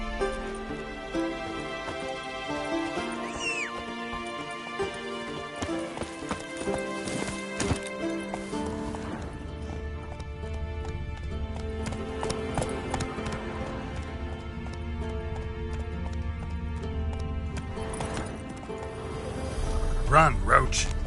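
Roach the horse gallops in a video game, hooves clattering in quick runs with a whinny, set against swelling game music and a voice speaking.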